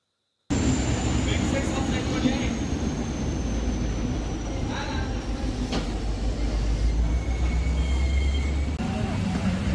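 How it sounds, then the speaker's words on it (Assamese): Train arriving at a station in Assam, a steady low rumble of wheels and engine that rises from near silence and holds, with a faint high whine and occasional distant tones. "এইফালে আমাৰ ট্ৰেইনখনেই এখন লাইট জ্বলাই আহি আছে"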